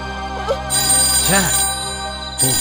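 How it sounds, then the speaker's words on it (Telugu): A telephone rings in a tense Telugu thriller movie scene, short bursts of bright electronic ringing interrupted by a voice speaking in between. "రింగ్ అవుతుంది, నువ్వు కంగారు పడుతున్నా."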